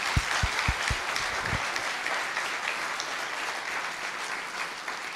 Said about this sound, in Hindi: ताली जरा जोर से एक बार।